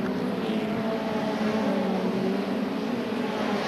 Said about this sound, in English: They're all powered by the early Ford pushrod engine